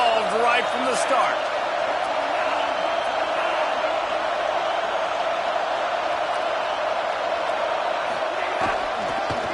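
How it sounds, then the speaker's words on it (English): Home crowd at a video game football match keeps up a continuous, fairly loud roar of cheering, with a commentator talking over it. "this home crowd getting involved right from the start"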